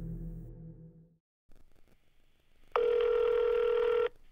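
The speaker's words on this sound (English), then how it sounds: "If you happen to call the number listed with the video, you're greeted with this voicemail." A telephone line connects with a short ring and a pause, then a long, steady electronic tone sounds for over a second before cutting off.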